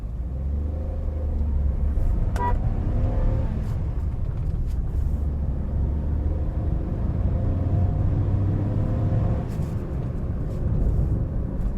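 A Hyundai Eon Era car running in LPG mode pulls away from a standstill, its small engine rumbling and rising in pitch as it accelerates, heard from inside the cabin without talk.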